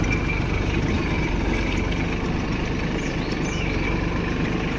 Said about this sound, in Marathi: छोट्या ट्रॅक्टरने योग्य पद्धतीने रोटा होतो